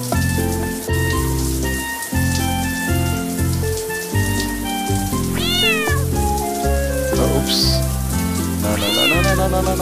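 A cartoon cat meows several times while being showered in the video game Adorable Home, with a steady spray of water and looping background music throughout.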